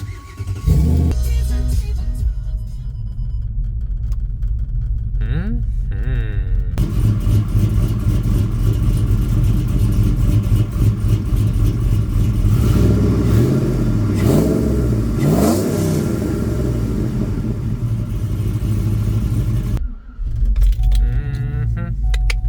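A forged Subaru FB-series boxer engine with long tube headers cranks and fires up, then holds a loud, rough idle with a few revs, cutting out briefly near the end before restarting.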